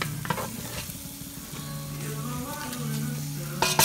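Flour and seasoning fry in oil in a pan, sizzling and crackling steadily while stirred into a paste, with occasional scraping and a few sharper clatters near the end.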